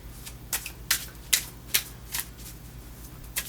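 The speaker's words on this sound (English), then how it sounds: "we're going to shuffle the cards so that we can pull some" Playing cards being shuffled in quick bursts, about seven crisp riffles in a row, close and clear with no talking.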